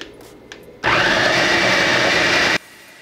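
An electric blender whirs at low speed while mixing a corn cream, switching on abruptly, holding a steady loud motor hum for about two seconds, then cutting off to quiet room background.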